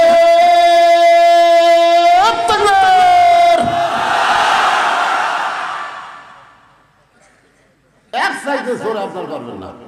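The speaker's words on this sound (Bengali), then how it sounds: "গলা খাকারে দেন লিল্লাহি তাকবীর।" A large crowd at a religious sermon shouting the takbir chant, a sustained loud unified call that swells into a roaring cheer, fades out, then a second shouted chant erupts.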